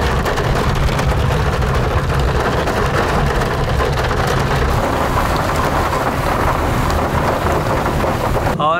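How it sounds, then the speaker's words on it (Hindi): Heavy rain pours down on a rainy day near Tehri Lake in Uttarakhand, a dense, constant broadband hiss that stays loud and unbroken throughout. "बहुत ही जोरों से बारिश लग चुकी है।"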